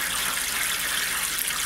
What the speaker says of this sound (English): I'm gonna fill that water pan with half apple juice and half water.